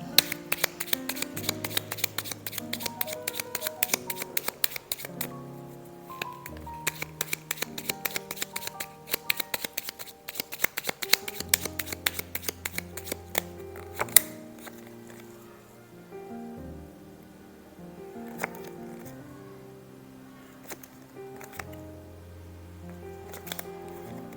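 A deck of Lenormand cards is shuffled in long runs of rapid, crisp riffling close up, with brief pauses between bursts and softer card handling near the end.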